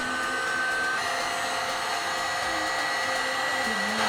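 A Black & Decker plug-in heat gun runs on its low setting, giving a steady, loud, close-up blowing whoosh with a faint motor whine and no pauses.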